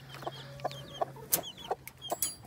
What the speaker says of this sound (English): I've been letting Mama and her chicks out before the rest of them